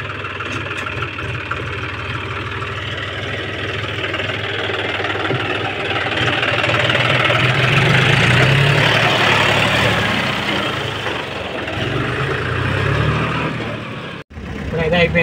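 A tractor engine runs steadily throughout, a loaded low rumble with a knocking idle character that swells a little louder in the middle before cutting briefly near the end, while people talk nearby over it.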